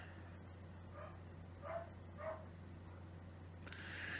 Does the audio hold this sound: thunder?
no